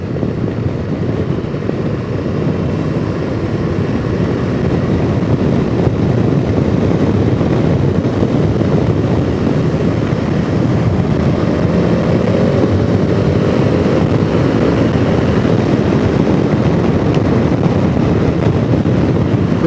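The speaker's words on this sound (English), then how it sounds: "But here I am revving it when I never rev my own bike like that." A KTM motorcycle engine runs steady and loud throughout, a dense continuous roar with rising revs and slight wind buffeting at the microphone, heard close.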